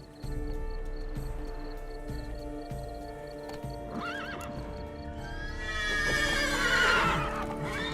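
A young horse in The Witcher 3 video game whinnies loudly in a drawn-out neigh near the end, over a steady bed of hooves clip-clopping and ambient game music.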